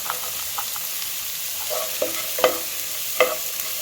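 Vegetables sautéing in a pan for egg fried rice, a steady hiss of frying broken by scattered scrapes and clinks of a spatula stirring, close and fairly loud with no talk.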